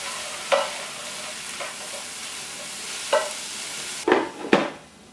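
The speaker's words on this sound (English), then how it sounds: "I'm gonna stir it up." Mushrooms cooking in a pan are stirred over a soft frying sizzle, with several distinct scraping strokes spaced irregularly and the last two louder and closer together.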